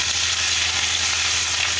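Fried spinach sizzling in a frying pan, a dense, loud, close hiss of frying that stays steady throughout with faint stirring beneath.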